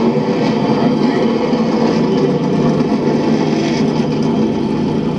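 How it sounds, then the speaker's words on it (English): Race car engines start up and roar together at Indianapolis Motor Speedway, a loud, steady, low engine drone that holds from start to finish. "And the engines roar to life."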